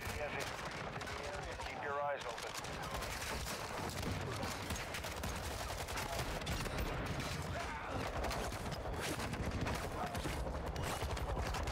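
Rapid gunfire bursts in the Call of Duty DMZ video game, dense and loud throughout, with machine-gun-style fusillades and shotgun blasts layered over game noise; faint talk blends in beneath.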